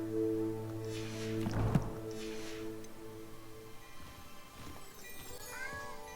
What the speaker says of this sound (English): There's a cat. It demands attention.